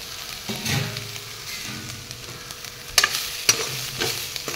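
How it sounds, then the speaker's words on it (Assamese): Potatoes fry with a constant sizzle in a soybean curry as a utensil stirs and scrapes around the pan, with a couple of sharp clanks near the end. "এইখিনি এনেদৰে অলপ টাইম লৰাই দিছোঁ"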